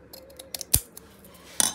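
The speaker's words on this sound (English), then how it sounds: "Actually, I think I'll use the pinking shears." Pinking shears cut through paper in a handful of short, crisp snips, close and fairly quiet, with a slightly longer rasping cut near the end.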